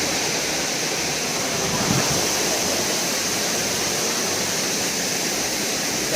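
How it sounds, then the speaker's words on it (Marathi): The Shivdav waterfall near Kankavli roars in a dense, steady rush of falling water, loud and unbroken throughout, with no voices. "एक नंबर जबरदस्त धबधबा."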